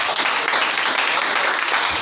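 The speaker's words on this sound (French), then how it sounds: "Donnez-moi vos acclamations." A church congregation at a worship service bursts into loud, dense applause mixed with cheering voices, a continuous wash of clapping and acclamation that fills the room.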